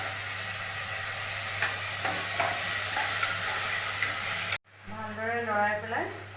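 Turmeric and other ingredients sizzle steadily in a hot pan while being stirred, with scraping and clinking of the spoon through the mix; after a brief cut, the frying continues with louder bubbling crackle.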